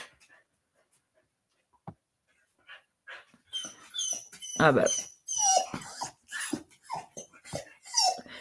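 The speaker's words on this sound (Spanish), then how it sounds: "aquí tengo una, perra que me llora" A female dog whines and whimpers in high, breathy bursts that grow louder and more frequent, mixed with panting, while a person speaks over it indoors.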